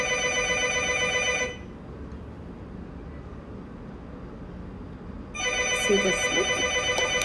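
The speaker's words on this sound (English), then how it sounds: "My phone is ringing." A mobile phone ringtone rings loudly in a repeating tonal pattern, cutting off into a quiet gap of room noise before the ringing resumes, with a brief spoken remark near the end.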